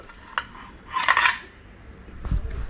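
Utensils and dishes clink and clatter as a freshly cooked chilla is served onto a plate, with a brighter rattle in the middle and scattered light knocks around it, close and moderately quiet.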